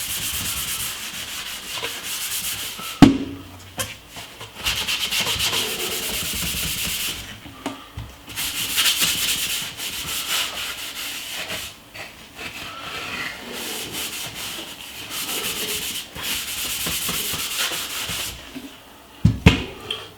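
Steady rubbing of a baking soda, lemon juice and toothpaste paste across a kettle, a soft scrubbing hiss that continues for the full stretch with a few sharper knocks and taps, close and fairly quiet.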